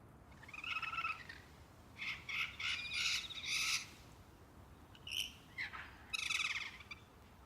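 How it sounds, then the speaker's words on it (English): Blue-headed parrot in an outback hunting game gives repeated harsh squawking calls in short bursts with gaps between, fairly close, over a low steady ambient hiss. "That's a parrot."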